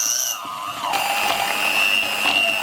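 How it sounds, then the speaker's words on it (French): White chocolate ganache whipped with an electric whisk, a steady close whirring motor hum with a shifting mechanical pitch, loud and alone without speech. "Et ici, je viens fouetter donc ma ganache."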